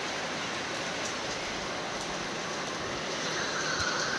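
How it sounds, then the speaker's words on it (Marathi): Steady rain falls in the Konkan countryside, a dense continuous hiss that stays even and fairly loud throughout, with no voices over it. "पाऊस बघा किती आहे इकडे"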